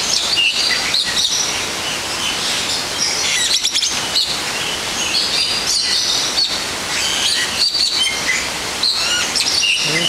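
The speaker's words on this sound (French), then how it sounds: "Parce que ici, il y a plein de petits oiseaux blancs." Many small white birds chirp in the tree branches of Hong Kong, a dense, continuous chorus of bright tweets close by with no talk over it.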